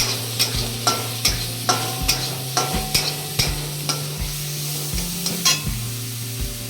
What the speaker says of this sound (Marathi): लगेच कढीपत्ता थोडी तडतडली आहे तर मसाला टाकून घेऊया